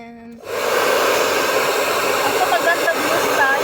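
A hair blower switches on and runs steadily with a loud, even rushing hiss that fills the space and holds without pause.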